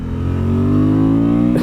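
A 2024 Honda Transalp motorcycle engine revs up loudly and close, its pitch climbing steadily in a smooth, throaty rise.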